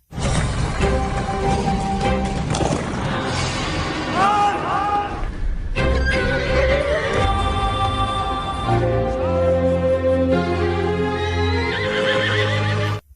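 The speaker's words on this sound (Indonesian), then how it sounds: "dalam keadaan panik, Sarman sigap menyelamatkan Chani dan berhasil menjinakkan kuda tersebut." A panicked horse neighs and whinnies loudly, with clip-clop hoof sounds, amid a dramatic scene backed by music and a narrating voice.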